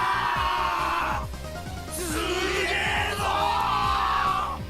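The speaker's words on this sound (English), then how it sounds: "The crowd paused in a moment of awe and then erupted in cheers." A video game crowd erupting in loud cheers, yells and whoops, sustained throughout with overlapping voices and a brief dip before surging again.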